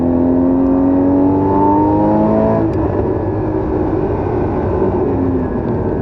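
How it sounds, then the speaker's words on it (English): The flat-six engine of a 2016 Porsche 981 GT4 sports car climbs in a loud, rising rev, then drops off abruptly into a rougher, lower rumble as the load changes, heard close with no voices. "the car produces one of the best engine notes I've ever heard. Certainly, the best of any six-cylinder."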